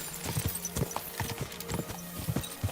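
A horse trots along in the medieval game Kingdom Come Deliverance 2, its hooves clip-clopping in a quick, regular rhythm, close and clear, with no talking over it.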